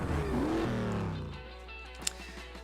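A car engine in the mobile racing game Beach Buggy Racing 2 drones with a steady, rising tone for about a second and a half. It then fades, leaving a quiet hum and a brief click near the end.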